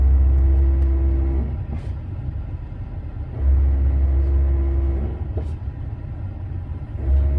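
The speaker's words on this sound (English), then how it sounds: "Basically, it's shuttling all the valves in the ABS unit, and it'll actually push air up in through the master cylinder." An ABS unit's valves cycle during a brake bleed on a car with the engine running. A low humming drone switches on and off in cycles of a couple of seconds over a background rumble, with faint clicks.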